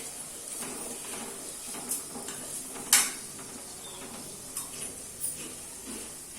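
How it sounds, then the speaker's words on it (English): Spices with turmeric and golden-brown onions stirred and frying in a pot for chicken curry, a steady low sizzle broken by a few scraping clinks of a spoon against the pot, fairly quiet and with no voices. "continuously stir this so that it will not over fry"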